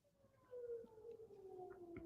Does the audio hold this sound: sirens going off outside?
yes